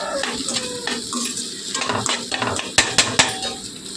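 Egg fries with garam masala in a pan for egg fried rice, a steady sizzle under busy stirring, with a few sharp metallic clinks of a utensil against the pan near the end.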